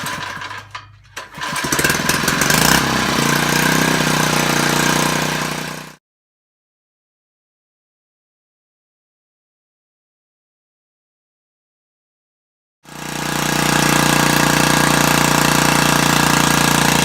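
A small engine being ruined in an oil comparison test runs loudly with a rough, rattling drone, then cuts out into several seconds of silence before roaring back at full volume.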